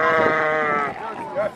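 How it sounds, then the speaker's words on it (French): Sheep bleating at a Tabaski gathering where a flock is counted and loaded onto trucks, a long wavering bleat followed by a shorter one, close and loud, with voices around. "les moutons lui sont présentés"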